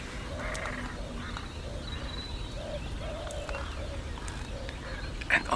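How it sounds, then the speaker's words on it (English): A crow caws in the Italian countryside, in golden eagle territory, giving a series of short, moderately distant calls in a loose rhythm over steady outdoor background noise. "A crow, yes."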